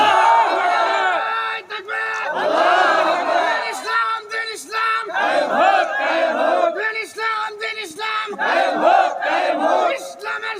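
A large crowd at a religious gathering in Tangail roars takbir together, loud repeated shouted chants rising and falling in waves with short pauses between calls.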